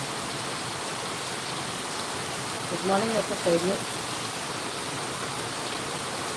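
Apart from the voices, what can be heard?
heavy rain outside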